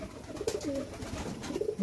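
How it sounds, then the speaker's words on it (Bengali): A pigeon perched up high during heavy rain gives a few soft, low coos, close by and fairly quiet against a light background of rain noise. "নতুন পায়রাটা উপরে বসে রয়েছে"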